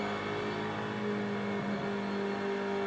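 Race car engine in the Superstars V8 Racing video game on PS3, a steady loud drone with rising and falling revs as the car closes on a rival during a practice round, no talking.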